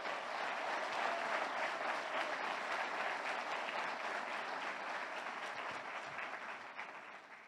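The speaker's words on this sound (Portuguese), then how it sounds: "Pode aplaudir, é para Jesus." Church congregation applauding for Jesus during a Portuguese sermon, a steady, dense wash of clapping that holds evenly throughout and eases off slightly at the end.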